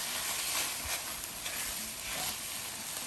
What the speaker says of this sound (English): just to deglaze the pan a little bit, I'm gonna